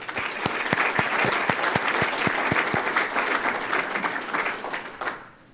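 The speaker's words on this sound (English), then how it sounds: "Let's give them a round of applause." A room full of people claps steadily for several seconds, with a few louder individual claps, before the applause fades out.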